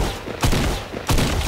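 Gunfire in the mobile battle royale game Fortnite Mobile: two loud bursts of rapid shots about 0.7 seconds apart, up close, with a dense crackling tail between them.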